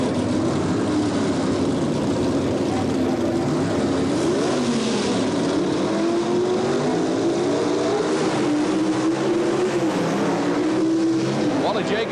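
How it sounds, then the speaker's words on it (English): A 438 cubic inch big block Chevy Camaro launches in a 1977 NHRA handicap drag race, its engine drone steady and loud throughout with shifting pitch, blended with crowd and track noise and faint announcer-like voices. "438 cubic inch big block Chevy Camaro, Richard Oakes against Wally Jacobson"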